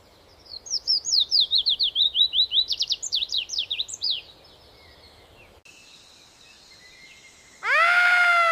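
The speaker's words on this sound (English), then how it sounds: "Birds sing to mark territory." Birds sing in quick, repeated chirping trills lasting several seconds. After a short quiet stretch, a single loud, sweeping call follows, clear and close with no talking.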